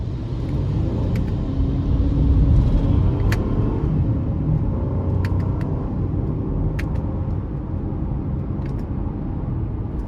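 A 2023 Honda Pilot LX AWD SUV with a 3.5-litre engine launches hard in sport mode, a steady loud low rumble of engine and road noise swelling as it accelerates and then holding, with no talk.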